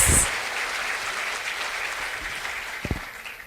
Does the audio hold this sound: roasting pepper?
no